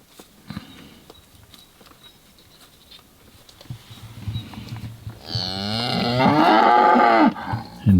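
Cattle and bulls gather close around a jeep at a farm, with scattered quiet sounds at first, then loud overlapping moos from several animals building up near the vehicle toward the end.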